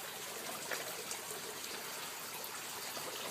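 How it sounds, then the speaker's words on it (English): Water draining through bell siphons in a flood-and-drain fish-rearing bed system, a steady, even trickling and gurgling flow with no talk. "when the water gets to a certain level it drains out through these bell siphons"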